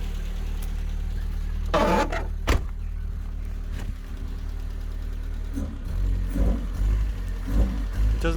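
A Rover 820 car engine idles steadily close by with a low continuous rumble, joined by a few brief clunks and small throttle blips.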